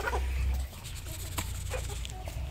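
Pena de ema chickens, young birds in a green backyard run, give soft scattered clucks and short calls close by over a low rumbling background.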